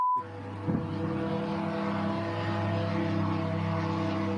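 An unidentified drone flies over Moscow, making a steady, continuous engine drone with a humming tonal buzz that holds evenly throughout, fairly close and alone.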